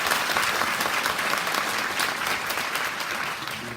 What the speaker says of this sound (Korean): 열띤 토론을 부탁한다는 그 심찬 박수로 맞이해주시기 바랍니다